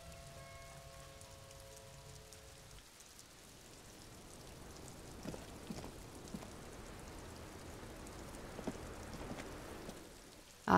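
Steady rain falls at moderate strength, a soft continuous hiss with scattered drops, heard alone with no talk.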